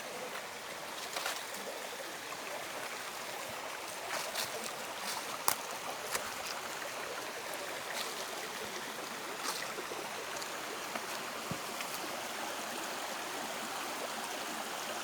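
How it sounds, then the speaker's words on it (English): The Mzuzu River flowing steadily nearby, a continuous broadband rush of water with occasional light ticks and splashes, no voices. "we're just coming through to the Mzuzu River"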